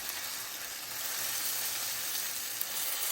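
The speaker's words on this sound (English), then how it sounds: "So, steak is still searing." A steak sears in a hot pan with a steady, close, even sizzle that holds at the same level throughout, no voices over it.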